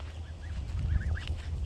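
Geese splashing in their backyard pool give a few short honking calls over a low, rumbling background, the cries brief and moderately close among other farm birds.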